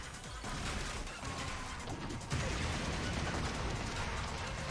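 Rapid, dense gunfire crackles without pause in the action game No More Heroes 3, a loud steady barrage with a sharper burst midway and no voices over it.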